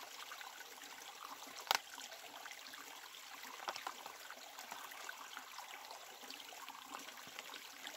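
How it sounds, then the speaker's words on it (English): Clear water trickling and running in a stream during a drought, a soft continuous burble heard close by, with one sharp splash or knock near the start and small gurgles scattered throughout. "this water's running clear, so I'm just going to go ahead and get some"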